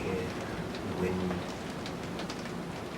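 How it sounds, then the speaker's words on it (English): Steady patter of rain drumming on a van roof, a dense continuous hiss with scattered drops, fairly close and even throughout. "you may hear rain on the van"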